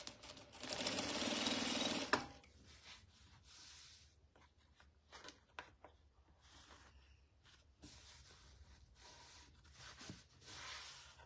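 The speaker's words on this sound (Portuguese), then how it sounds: "Bem, agora eu vou pespontar, vou colocar pra cá, ó. E vou fazer um pesponto." Sewing machine topstitching fabric for a summer bag, one loud steady run of about two seconds followed by quiet, scattered handling clicks and rustles.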